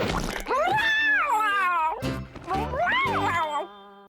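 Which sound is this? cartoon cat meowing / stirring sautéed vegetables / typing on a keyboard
cartoon cat meowing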